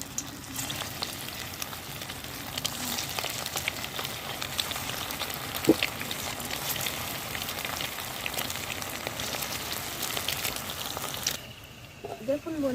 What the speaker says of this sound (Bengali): এবার আমি গরম তেলে ভেজে নেব।